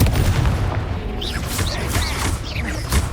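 A blasting spell explodes in the Hogwarts Legacy video game, a heavy booming blast amid dense combat noise, with whistling magical streaks and rumbling impacts throughout.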